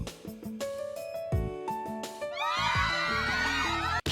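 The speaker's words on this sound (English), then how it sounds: "All this the screaming and then slapping sound" Screaming followed by a slapping sound in the Cafe Enchante otome video game: shrill, wavering cries rise over tonal game music, then a sharp slap ends it abruptly.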